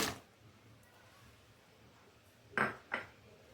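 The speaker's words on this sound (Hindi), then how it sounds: "अब इसमें मैं डाल रही हूँ बादाम, काजू" Almonds and cashews dropping into a cooking pot: one clattering tumble at the start, then two quick clinking drops close together near the end, with quiet between.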